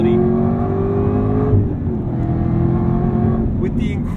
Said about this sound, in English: I might actually get the axle back exhaust as well, just because that noise is incredible.